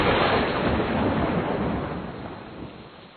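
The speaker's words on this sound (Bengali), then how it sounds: "মুষলধারায় বৃষ্টি পড়ছে।" Heavy rain pours down during a storm, a dense, steady hiss that stays loud and even, then fades slightly toward the end.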